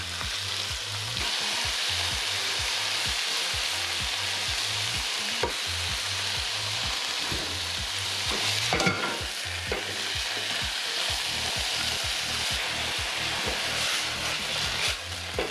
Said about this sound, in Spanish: vamos a empezar a agregar nuestros bisteces